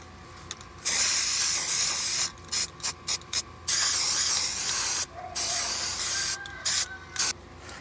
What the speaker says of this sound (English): I'm going to spray paint them with Rust-Oleum Hammered Dark Bronze spray paint.